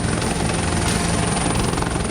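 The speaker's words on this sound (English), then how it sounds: "by the time the chopper carrying his son Chris put down." A helicopter carrying an injured shark attack survivor sets down at a hospital, its loud steady rotor and engine roar filling every moment without pause.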